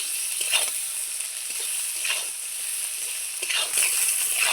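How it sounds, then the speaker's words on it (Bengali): Okra frying in a pan with salt and turmeric, a steady soft sizzle with a few faint stirring scrapes, close and alone with no talk. "এইবারও আমি আবারও নাড়চাড় করে নিচ্ছি লবণ হলুদ দিয়ে"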